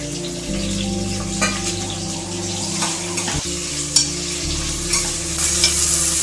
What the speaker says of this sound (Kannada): ನಂತರ ಸ್ವಲ್ಪ ನೀವು ಹೆಚ್ಚಿಟ್ಟಿರೋಂಥ ಈರುಳ್ಳಿನ ಹಾಕೊಳ್ಳಿ.